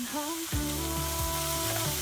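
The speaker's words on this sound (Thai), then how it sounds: "นำหมูสับเนี่ยลงไปผัดในกระทะ ใช้ไฟเบาๆนะครับ" Minced pork stir-frying in a wok over low heat, a gentle steady sizzle running throughout with a few scraping stirs of the spatula, close and moderately loud with no talk.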